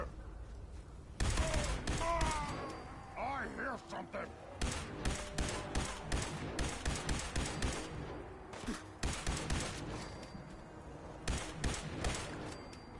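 Rifle gunfire in Fallout 4, heard as repeated sharp bursts in clustered volleys across the clip, with voice sounds between shots.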